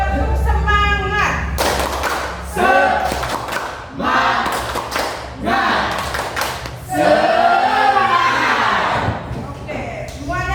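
A classroom group performs the 'tepuk semangat' clapping cheer, bursts of rhythmic group claps mixed with shouted chanting voices, loud and close, repeating in several waves.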